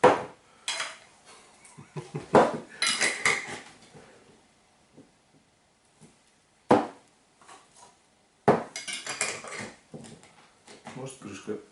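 The metal lid of a home canning jar clatters and clinks in a few sharp bursts, with quiet pauses between them, close by in a kitchen with a duck-preserve autoclave.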